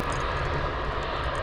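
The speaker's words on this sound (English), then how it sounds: "Here's the air ambulance, bringing people in from the bush, taking them to the children's hospital." An air ambulance helicopter flies overhead above the grasslands of Royal Park, a loud, steady rotor and engine roar that fills the whole stretch with no one talking.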